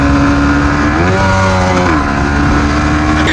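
Yamaha MT-15 motorcycle exhaust, loud and close, holding a steady rumbling note that dips and rises in pitch a couple of times as the throttle shifts, continuous throughout with no talk.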